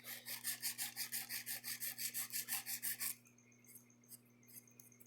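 A hand file rasps back and forth across acrylic nails in quick, even strokes, about a dozen rhythmic passes close to the microphone, then stops, leaving a faint hum and a few small taps.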